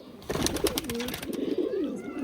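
Old-bloodline Khulna high-flying pigeons coo with low, rolling, repeated calls, close by, over a faint fluttering and rustling background.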